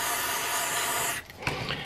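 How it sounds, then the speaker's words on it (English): CRC mass airflow sensor cleaner sprayed from an aerosol can onto a sensor during work on a Jeep Patriot 2.4L engine: a loud, close, steady hiss that cuts off, followed by faint handling noises. "spray some inside the sensor wiring just to make sure it is clean"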